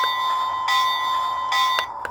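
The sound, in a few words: Lionel O-Gauge Iron Arry toy train bell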